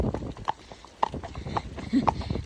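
A ridden horse clip-clops along a road outdoors, its hooves striking in a steady, even rhythm at moderate distance, fairly quiet against a light background of wind and ambient noise.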